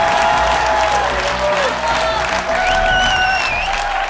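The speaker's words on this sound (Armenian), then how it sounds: "ծափահարությունները ձեզ։" An audience claps through a battle round of The Voice of Armenia, a steady dense patter of applause with faint tonal voices or music running over it.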